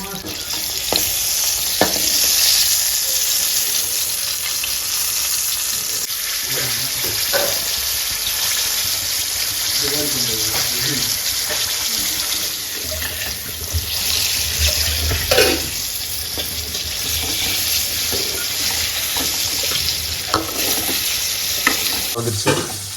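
Honey garlic chicken fries in a pan and is turned to its other side, giving a steady loud sizzle with bursts of stirring and clattering. Running tap water joins in at moments, with no talk over it.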